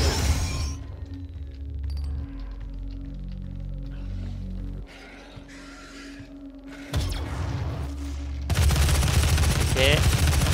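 Gunfire from the video game Doom rattles in dense bursts over a continuous low game soundtrack. It is loud and busy, with mechanical clinks and a sharp burst near the end.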